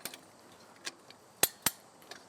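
A fence wire tensioner is ratcheted with a tensioning tool on a livestock fence, giving a few sharp, isolated metallic clicks spaced irregularly over a quiet background.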